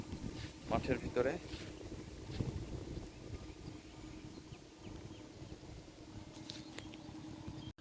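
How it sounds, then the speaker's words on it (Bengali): Strong wind sweeps across an open farm field where crops are being watered, a low steady rumble of gusts buffeting the microphone, with some faint handling bumps early on. "প্রচুর বাতাস হচ্ছে মাঠের ভিতরে"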